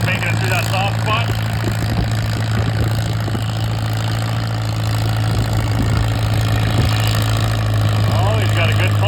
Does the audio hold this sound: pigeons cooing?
no